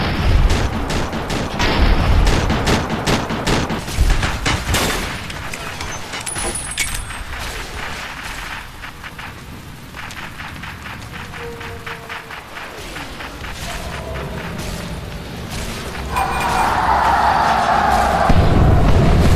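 Gunfire from a battle in the video game Fallout: New Vegas, a dense run of sharp shots and bursts heard over background game noise and music, loud at first, thinning in the middle, then building again near the end.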